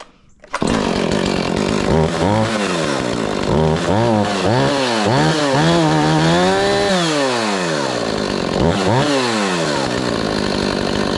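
A chainsaw cold-started for the season runs loud and close, its engine revving up and down repeatedly in rising and falling sweeps before settling.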